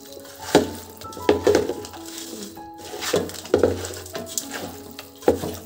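Spoon scraping and stirring chicken biryani pieces with masala and ghee in a metal pot, a few distinct clanks and sizzling bursts at irregular intervals, close and fairly loud.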